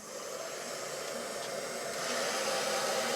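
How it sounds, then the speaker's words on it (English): A hair dryer on hot blows a steady, breathy whoosh of air close by onto heat shrink tubing on a soldered wire, growing slightly louder near the end, with no talking. "We then get a hairdryer"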